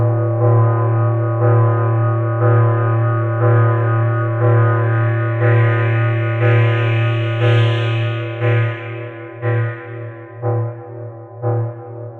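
A sustained, droning musical sample smeared by heavy convolution reverb at full wet, from an impulse response recorded at Nothe Fort, pulsing rhythmically and washing into a spacious, echoing tail.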